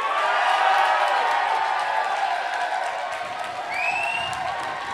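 A live audience at a final of a game-style show cheers and applauds for a finalist, a dense, sustained roar of clapping and voices with a rising whoop near the end.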